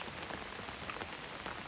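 Rain falls steadily outdoors, a dense, close hiss of drops pattering on surfaces with no pauses and no voices.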